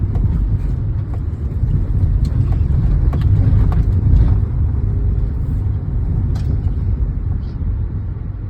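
A car reversing during a driving lesson gives a steady low engine rumble close by, with faint clicks and rattles over a constant drone and light wind buffeting, no clear voices.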